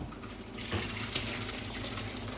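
Water being drained off cooked vegetables for veg biryani, a soft continuous pouring splash, faint and steady with a slight surge partway through.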